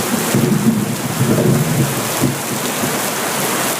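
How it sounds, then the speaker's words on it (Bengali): Heavy rain pours steadily in a cartoon storm scene, with a deep rumble of thunder rolling through the first half under the dense hiss of rainfall. "আজ যা বৃষ্টি নেমেছে"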